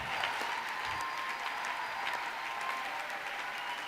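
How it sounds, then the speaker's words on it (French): Continuous clapping from a church congregation at a mass prayer gathering fills the space, a dense even patter that holds steady throughout with a faint sustained tone beneath. "Applaudis très bien."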